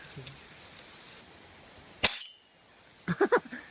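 One sharp, sudden shot cracks out at a target outdoors and decays quickly, followed by a few short clipped vocal sounds.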